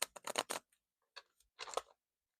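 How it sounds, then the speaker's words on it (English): A stiff deck of cards is shuffled in short, quiet bursts of crisp riffling clicks separated by gaps, close up with no talk. "These cards are just super duper stiff and hard to shuffle."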